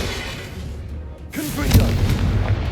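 Explosive spell blasts in Hogwarts Legacy combat, with low booming thuds, a heavier impact partway through, and game voices and effects layered over them.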